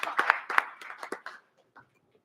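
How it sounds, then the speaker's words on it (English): A few people in a legislative committee hearing room give a brief, sparse round of applause, individual claps close by that thin out and stop after about a second and a half. "let's give her a round of applause and thank her for being here"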